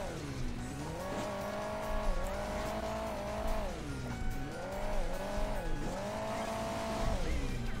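Cars racing in Hill Climb Racing 2, an engine droning steadily and rising and falling in pitch as it revs, with tire squeal throughout and no talking.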